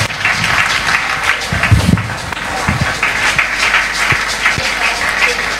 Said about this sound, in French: Clap your hand, appreciate God.